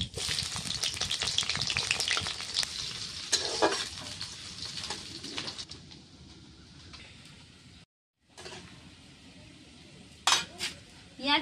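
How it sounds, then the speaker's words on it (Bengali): Chopped chili and onion frying in hot oil in a wok, a steady sizzle with scraping and clinks of a stirring utensil, loud at first and then settling lower before a brief gap and renewed stirring. "এবার আমি লঙ্কা কুচি দিয়ে দিলাম, পেঁয়াজ কুচিটাও দিয়ে দিলাম।"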